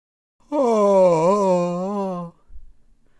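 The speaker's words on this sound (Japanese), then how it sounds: "眠い時に出るのがあくび。" A single drawn-out vocal yawn, a long moaning exhale that rises and wavers for about two seconds and then stops, heard alone and close, followed by a faint low rustle.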